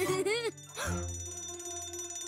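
A fire station alarm bell rings close and loud in a short burst in a children's cartoon, with a voice speaking over and after it.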